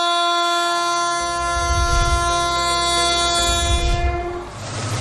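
Indian Railways freight train on the New Bhaupur–New Khurja dedicated freight corridor, its horn sounding a long sustained blast while wheels rumble and clatter along the track, loud and close.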